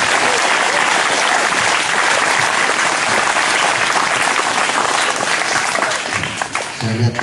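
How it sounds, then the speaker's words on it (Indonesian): A crowd of students at a school flag ceremony claps loudly and steadily for several seconds, dense applause that thins slightly toward the end. "Mari kita beri tepuk tangan dulu."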